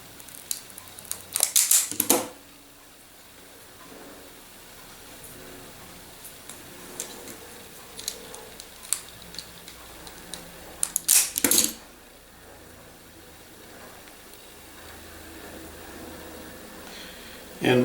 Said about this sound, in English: I'm going to use this black wire, and I'm going to cut that about right there, I guess. Strip that away.